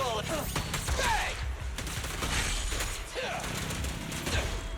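Gunfire in a video game, a steady clatter of repeated shots with scattered impacts and mechanical clicks, fairly quiet, mixed with background game sounds and some voice.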